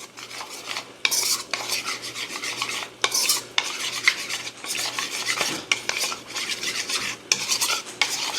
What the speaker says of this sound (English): And we're going to mix it to combine.